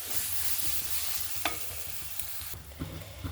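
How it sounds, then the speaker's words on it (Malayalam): Crushed ginger and garlic fry in a pan for a homestyle chicken curry, steady sizzling under frequent spoon scrapes and taps, the hiss easing partway through while the stirring carries on, near and fairly quiet, no speech. "നമുക്കതിലോട്ട് ഇഞ്ചി വെളുത്തുള്ളി ചതച്ചിട്ട് കൊടുക്കാം."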